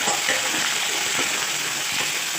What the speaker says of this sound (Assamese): সেইখিনি এতিয়া মই লৰাই দিম।